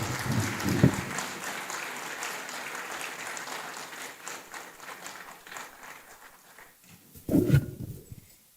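A conference audience gives sustained applause welcoming a professor to the podium at an African higher-education research event, thick and steady at first, then thinning and fading, with a brief louder burst near the end.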